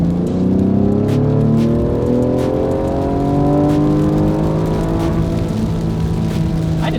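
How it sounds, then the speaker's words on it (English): A tuned Ford Explorer rally car engine revs hard and climbs steadily in pitch, loud and close, with rising harmonic whine and no talking over it. "I didn't know that thing could rev that far."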